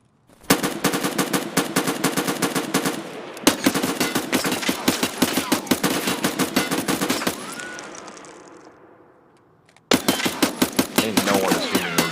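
Rapid automatic gunfire in a video game, loud continuous bursts of shots that stop briefly twice and then resume, with no voices over them.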